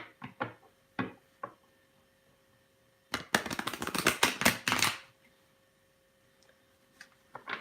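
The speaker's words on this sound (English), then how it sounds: "One last shuffle for AD." A deck of cards is shuffled for a reading: a few quick riffles and taps, then a dense burst of rapid flicking riffles lasting about two seconds, close and crisp in a quiet room.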